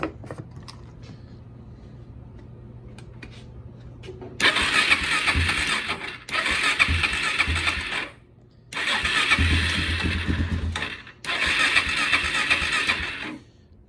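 A Kawasaki KFX 400 ATV engine with a newly installed carburetor runs on starting fluid in loud revving bursts, roughly four in quick succession with brief gaps between, after a quiet start.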